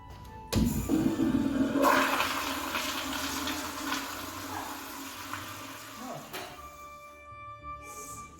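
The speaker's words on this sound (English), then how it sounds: "Look at this, like, old Toto automatic flusher." An old Toto automatic toilet flusher fires in a hotel restroom stall, giving a sudden loud rush of water that swirls and drains for several seconds, then fades into a refill hiss.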